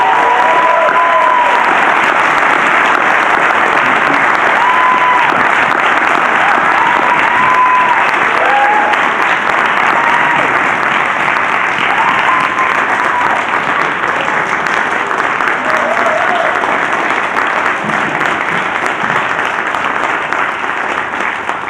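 Sustained, loud applause from an auditorium audience at a Colorado opioid abatement conference, clapping steadily for six young youth panelists for about twenty seconds with no break.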